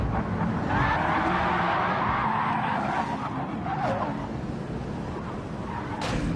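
A Gr.3 race car in Gran Turismo 7 brakes into a corner at Road Atlanta, the engine note falling under a sustained tyre-squeal hiss of moderate loudness.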